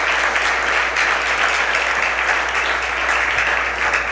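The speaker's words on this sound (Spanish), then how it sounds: "Démosle ofrenda de palmas al Señor" A church congregation gives the Lord an offering of applause. The loud, dense clapping is steady and unbroken, with a low hum beneath it.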